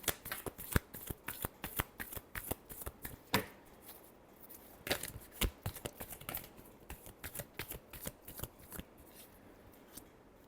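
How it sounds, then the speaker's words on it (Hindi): Tarot cards being shuffled close by in quick irregular bursts of riffling slaps and flutters, fairly quiet, with no talking. "Last shuffle."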